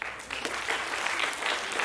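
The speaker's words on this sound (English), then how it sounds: "Clap it up." A school youth summit audience claps together, a dense, even burst of applause that carries on steadily for a couple of seconds.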